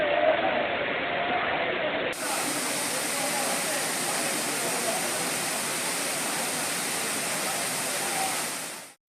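Constant loud roar of water crashing down the Thirparappu waterfall, a dense, steady broadband rush that continues unbroken, with a faint voice beneath it, before cutting off abruptly at the end.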